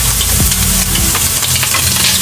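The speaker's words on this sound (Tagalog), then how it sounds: "gisa muna ang mga sangkap" Ingredients for ginataang mongo sauté in a pan, a loud, close, continuous sizzle with a few spatula scrapes and knocks as they are stirred, no talk.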